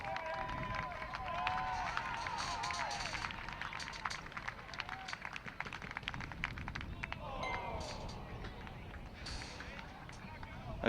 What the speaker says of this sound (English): Starting to hear the crowd going now.